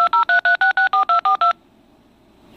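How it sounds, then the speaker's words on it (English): A telephone on speakerphone redials a number, giving ten rapid touch-tone beeps in a steady burst, followed by a quiet line hiss and the start of a connection sound. "now let's go ahead and redial that number and place it on speakerphone"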